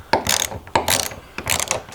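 A ratchet tightens a nylock nut on a roof-mounted van awning, giving three bursts of quick, close metallic clicking separated by short pauses.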